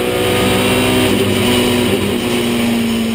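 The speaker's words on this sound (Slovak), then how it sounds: "počujete obmedzovač" An ETCC touring race car at the Salzburgring, on a wet track, holds its engine at the rev limiter, producing a loud, sustained, buzzing engine note heard close up from inside the car.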